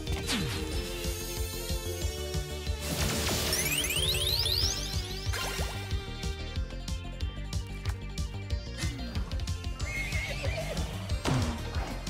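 Game music from Sea of Stars plays throughout, with a horse's neigh and clattering hoof-like hits and crashes rising over it at moderate loudness, no voices.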